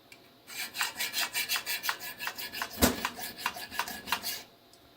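Rust is scrubbed off cabin heater parts with about fifteen rhythmic back-and-forth rasping strokes, close and moderately loud, with one sharp knock in the middle.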